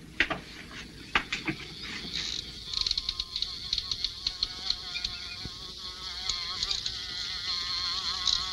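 A housefly buzzes close by in a quiet room, its whine wavering and coming in uneven bursts with soft knocks in between.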